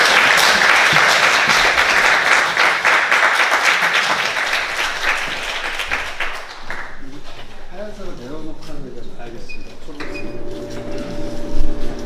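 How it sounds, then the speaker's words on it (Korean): A lecture audience gives a guest professor a warm welcome with sustained clapping that is loud at first and thins out toward the end, with a few voices and faint clinks audible as it fades. "여러분 큰 박수로 환영해 주시면 감사하겠습니다"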